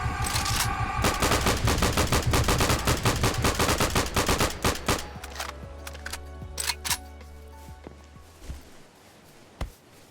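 Loud, rapid gunfire from Serious Sam, shooting an enemy, rattles in a dense stream, then thins into scattered single shots with echoing tails as it fades.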